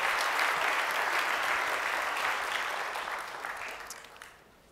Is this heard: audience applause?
yes